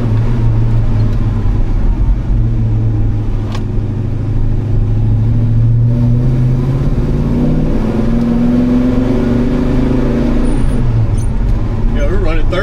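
Car engine revving in first gear through a turn, loud and close, its pitch climbing and falling in sweeps over steady road rumble, with a voice talking underneath.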